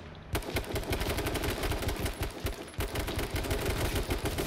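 Rapid automatic gunfire in the video game H1Z1, loud and continuous bursts of tightly spaced shots with one brief pause before the firing resumes.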